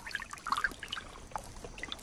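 An archerfish shoots a thin jet of water at an insect above the surface, giving a soft, sputtering trickle and splash with a few brief spurts, close and fairly faint, with no talk over it.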